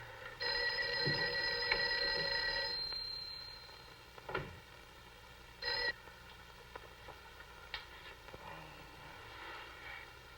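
An old telephone rings in a 1959 film scene: a long, fairly faint ring followed by a shorter burst and a brief later jingle, under a low background hum with no speech.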